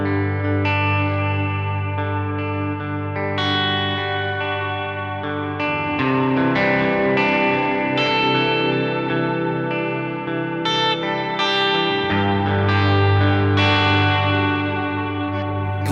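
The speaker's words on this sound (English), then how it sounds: "Here's some reverb." Electric guitar through a reverb effect on a Line 6 HX Stomp picks a melodic line of notes and chords, each washed in a lingering reverb tail, steady and prominent with no talking.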